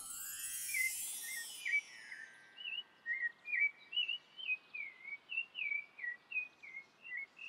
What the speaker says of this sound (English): the season in which the sparrow sings the most is now in spring